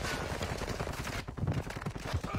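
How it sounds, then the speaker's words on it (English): Video game gunfire: dense, rapid automatic bursts rattling continuously up close, loud and sustained across the whole span with no clear gaps. "I'm taking fire."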